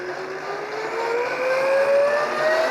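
A coffee grinder spun by a DeWalt drill whines steadily upward in pitch as the motor ramps up its RPM, a continuous rising mechanical drone heard up close with no talking.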